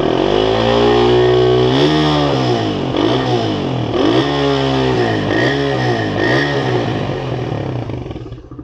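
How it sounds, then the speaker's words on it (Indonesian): A 2015 Suzuki Satria FU facelift motorcycle revs through its exhaust, the engine note rising and falling in repeated throttle blips, loud and close with no talking, fading slightly at the end. "kita coba geber ya untuk knalpotnya, apakah ada kebul apa enggak"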